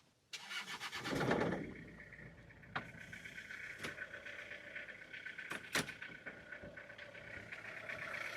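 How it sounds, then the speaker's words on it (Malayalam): A Toyota Qualis diesel engine cranks and catches, then settles into a steady rattling idle with a few sharp clicks and knocks over it. "നമ്മുടെ ഈ ഒരു കോളിസ് ഒന്ന് സ്റ്റാർട്ട് ആക്കിയാൽ നിങ്ങളൊന്ന് കേൾപ്പിച്ചു തരാം എങ്ങനെയുണ്ട് ആ ഒരു സൗണ്ട്"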